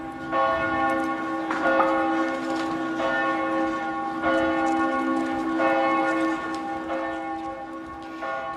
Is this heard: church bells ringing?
yes